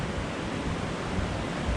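Murray Falls waterfall in full flow, a steady broadband rushing roar heard from nearby, unbroken and even in level throughout.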